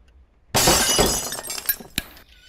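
Glass smashes suddenly and loudly in a horror game set during a nun massacre, a bright crash followed by tinkling shards scattering and a final sharp clink before the noise dies away.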